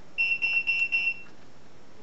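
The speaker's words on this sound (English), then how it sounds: "Fire alarm, never mind. Stopped now." A fire alarm sounds indoors in a series of about five fast, shrill electronic beeps. It is faint against a quiet room and stops after about a second.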